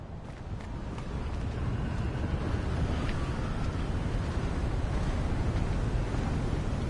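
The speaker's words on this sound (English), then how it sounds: "Very windy up here." In the video game Hogwarts Legacy, wind blows hard at a high lookout as a steady, loud, broadband rush that keeps building over several seconds, with no voices.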